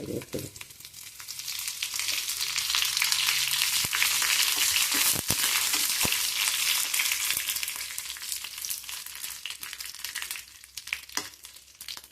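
Mustard seeds pop and crackle in hot coconut oil with chilli and salt, giving a dense frying hiss that swells and then eases, with scattered sharp pops close by.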